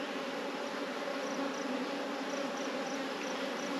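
A packed beehive full of brood hums with a thick, unbroken drone of honey bees, close and constant. Faint higher buzzing notes rise and fall above it, and no one speaks.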